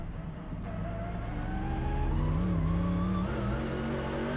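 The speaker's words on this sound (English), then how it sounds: "just distracted then as I was watching this car coming into the pit lane" A DTM race car at the Norisring rolls into the pit lane, its engine note rising and falling in pitch as it nears, steady and fairly loud with no talk.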